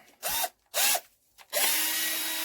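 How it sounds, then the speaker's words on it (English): A power drill works on a Douglas engine head during a rebuild, giving two short whirring bursts and then a longer steady run. Each burst spins up and winds down close by. "we are going to use a drill"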